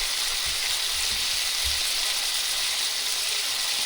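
Chicken pan-frying in oil, a steady broadband sizzle holding evenly throughout with a few low thumps early on, no talking.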